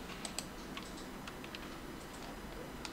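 A computer mouse clicks faintly and irregularly while navigating a web page, small dry ticks scattered over a low steady hum with no talking.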